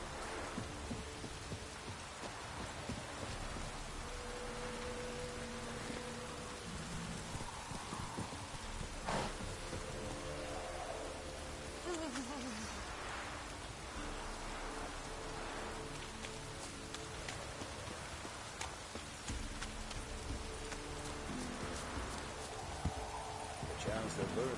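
Heavy downpour in The Witcher 3: Wild Hunt, a steady dense hiss of rain running throughout at moderate level, with game characters talking over it and occasional faint rumbles.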